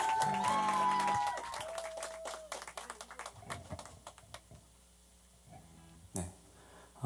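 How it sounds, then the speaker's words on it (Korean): Thin, scattered clapping from a small audience at a band concert follows the tail of the music, a few sparse claps growing quieter with one brief louder burst near the end. "박수 좀 쳐주세요. 빨리 올라가라고."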